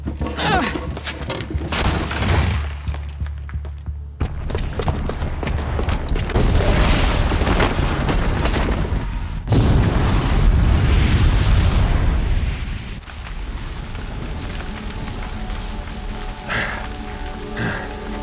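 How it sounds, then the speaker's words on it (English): A booby-trapped bomb goes off in Horizon Zero Dawn: a loud, sustained, rumbling blast with crashing debris that swells in waves, then settles into a lower, continuing roar. "the booby trap on the bomb downstairs is gonna get set off"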